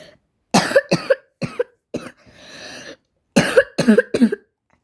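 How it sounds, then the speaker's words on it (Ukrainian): Several harsh, close coughs in quick bursts, then a breathy pause, followed by another rapid cluster of coughs. "я просто хворий, то я кашляю трохи"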